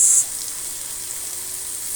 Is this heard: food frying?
yes